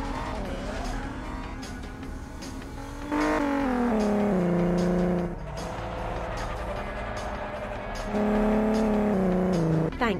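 Engine roar from a car in the Cars video game, revving and sliding through drifts with long tire squeals that rise and fall, loud and close, with no talk.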